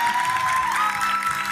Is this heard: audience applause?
yes